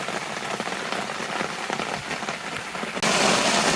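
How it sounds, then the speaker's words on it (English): Heavy rain pours onto a campsite in a dense, steady hiss of drops pattering on surfaces close by, then swells to a louder, fuller roar near the end. "Rain just picked up even more"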